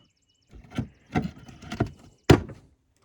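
A few short sliding and knocking sounds up close, a food and cooking-gear drawer in a converted Toyota 4Runner pulled open and pushed shut, ending in one sharper thud.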